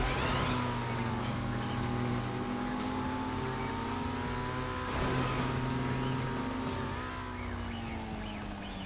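A race car engine in GTA V, a loud continuous drone with shifting revs that rises and falls throughout, with voices talking underneath.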